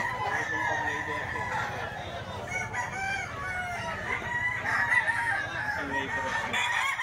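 A rooster crows repeatedly over a noisy background of other fowl clucking and calling, the crows rising loud and close across the recording amid faint murmuring voices.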